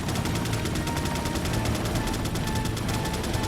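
Sustained rapid gunfire from Mike in Resident Evil 4, a dense, steady rattle of machine-gun bursts that continues without pause, moderately loud and unaccompanied by talk.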